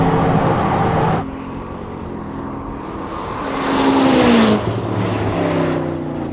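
A Ferrari or Koenigsegg sports car accelerates hard during a GPS speed run, its engine a steady loud roar that shifts after a gear change and climbs in pitch before easing again.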